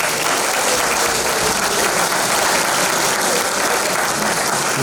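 Loud, continuous audience applause at a carnival jubilee session in a hall, many hands clapping in a dense, unbroken roar that holds steady from start to finish.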